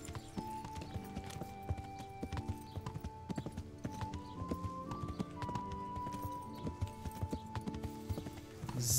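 Horse hooves clip-clop steadily in the video game Kingdom Come Deliverance, a continuous rhythmic trot of close, crisp hoofbeats lasting several seconds with no talking over them.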